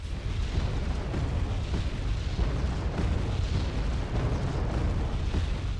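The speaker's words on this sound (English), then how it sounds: "More rocket artillery, just kind of not killing anything really, but stunning it." In Wargame: Red Dragon, rocket artillery explosions rumble and boom continuously. The salvos blend into a dense, loud roar with no talking.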